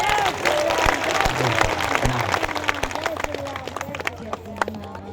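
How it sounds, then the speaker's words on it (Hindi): Audience at a Hindu devotional gathering clapping in thanks, a dense, steady wash of hand claps sustained throughout, with voices mixed in underneath. "इनको भी ताली बजा करके धन्यवाद दो"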